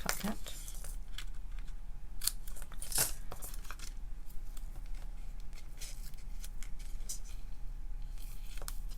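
Scissors snipping through craft paper for a fine art floral handcraft project, a run of sharp crisp cuts with rustling handling noise close by and no speech over it.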